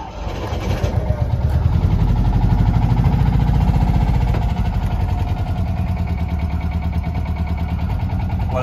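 A restored 1971 Fiat 500 L with its small engine catching and settling into a steady, loud, close idle that chugs evenly for several seconds.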